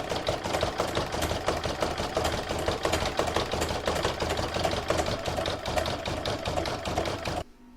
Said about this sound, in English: I'm now going to stitch round number 7, which is the satin stitching around the head